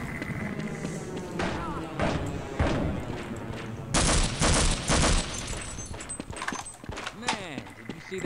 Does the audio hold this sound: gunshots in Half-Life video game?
yes